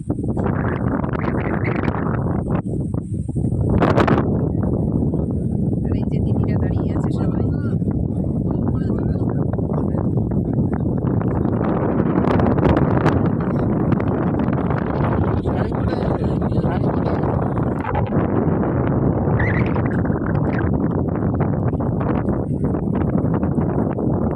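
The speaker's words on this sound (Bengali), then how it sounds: "আর হাওয়া দিচ্ছে আর ঢেউটা দারুণ লাগছে" Steady wind gusts buffet the microphone beside water at high tide, with waves washing nearby; the roar stays loud and continuous throughout, with voices faintly mixed in.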